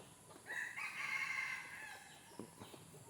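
A single rooster crows nearby, one long drawn-out call lasting about a second, with faint rustling and clucks after it.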